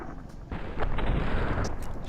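Grenade going off in Fallout: New Vegas, a sudden loud blast with a rough, crackling rumble that continues after the hit, alone without speech.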